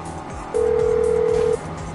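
A phone call dialed in a video game: one steady electronic tone holds for about a second, with background game sounds underneath and before and after.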